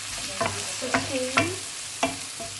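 Fumed pork sautéed in a pan for a mushroom dish, with a steady sizzle broken by several distinct scraping stirs of a utensil, close and alone with no voices.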